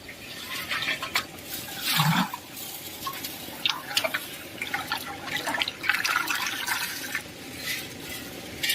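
Water gushing into a fish hatchery tank as the flow is opened for carp eggs, a continuous splashing, bubbling rush with irregular surges, moderately loud and close, with no talking.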